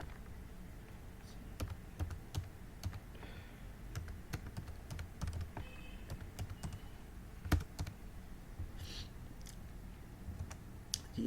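Computer keyboard keys tapped in irregular bursts while entering an email address into an online income tax challan form, close and fairly quiet, with sharp individual clicks and no talking.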